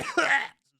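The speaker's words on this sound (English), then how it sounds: "Excuse me for coughing on the mic." A single harsh cough close to the microphone, a short rough burst lasting about half a second, then silence.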